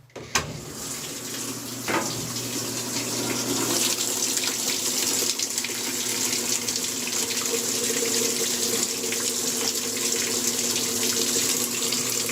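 GE washing machine filling with warm water after an inlet valve replacement: a steady rushing stream of water pouring in, starting with a click and running continuously at close range.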